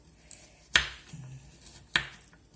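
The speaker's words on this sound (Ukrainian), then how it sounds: "я накришу тим часом морквицю до борщу" A knife chops carrots for borscht in two crisp, sharp knocks about a second apart, with a faint tap before them, close and quiet in an otherwise still kitchen.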